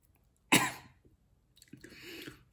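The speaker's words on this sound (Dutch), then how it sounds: "ik begin er helemaal van te niezen" Two sharp bursts from a person after eating spicy dried tofu: one loud, abrupt sneeze-like explosion near the start, then a softer, breathier follow-up a second later, close to the microphone in an otherwise quiet room.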